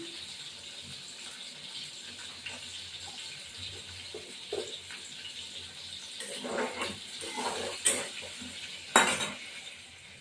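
Potatoes and salt go into a cooking pot with quiet stirring, clinking utensils and watery sloshing, soft and close, louder bursts near the end.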